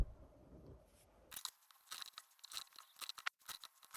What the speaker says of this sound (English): Next I'll cut 5 2 by 6 inch pieces.